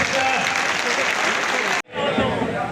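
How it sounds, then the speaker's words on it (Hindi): Loud, dense applause from a large crowd at an outdoor political rally, sustained and close, breaking off abruptly for a split second before resuming. "सभी परिवार के साथी एक बार जोरदार तालियों से उनका स्वागत करें"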